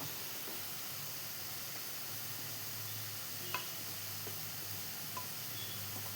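Jackfruit seed upperi stir-fries in a pan with a soft, continuous sizzle and hiss, faint and steady, broken by a few light scrapes of stirring.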